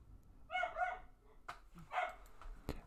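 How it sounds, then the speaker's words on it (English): Dogs bark during an earthquake in Fukushima, Japan: a few separate yapping barks and yips, distant and fairly faint, spaced across a quiet background with a couple of sharp knocks. "As you hear the dogs in the background"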